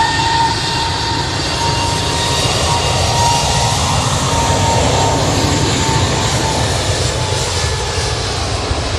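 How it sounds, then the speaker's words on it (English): An EasyJet airliner departing Manchester Airport for Alicante thunders with loud, sustained engine roar, a dense, unbroken rumble filling the whole stretch without any talking. "EasyJet to Alicante, they're just drowning me out"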